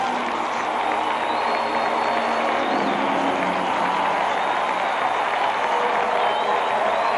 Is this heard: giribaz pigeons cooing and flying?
no